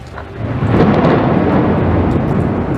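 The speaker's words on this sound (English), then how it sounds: "along with thunder so fierce it set off car alarms" Loud, sustained rumbling thunder rolls through a violent London thunderstorm, swelling within the first second and holding steady with a broad, heavy roar.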